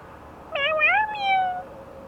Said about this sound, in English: That's how he meows.